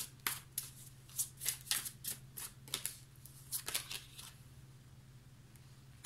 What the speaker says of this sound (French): Je vais recouvrir la 10 d'épée.